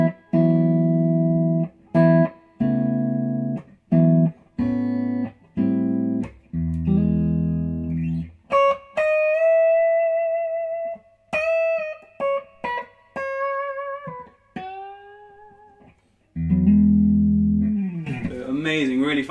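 A Joe White electric guitar strums chords clean and up close, each one ringing out and then cut short before the next, with a few stretches of single sustained notes and a final bright strum.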